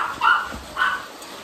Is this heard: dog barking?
yes